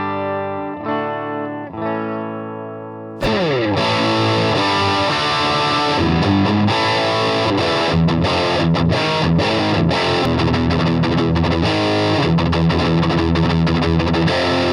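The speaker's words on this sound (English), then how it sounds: "Distortion pedals are meant to alter the waveform significantly to really sound like your waveform is being crushed and destroyed and distorted." Electric guitar played through a distortion pedal: a few clean notes first, then loud, heavily crushed and gritty chords and riffs ringing continuously to the end, with no talking.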